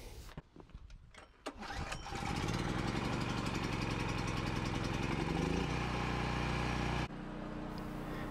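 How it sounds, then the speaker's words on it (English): A generator starts up to power a Best Arc 220/110V plasma cutter: a few sharp clicks and cranking sounds, then the engine catches and settles into a steady, loud running drone, dropping slightly in level near the end. "Now let's power on our generator and start cutting some metal"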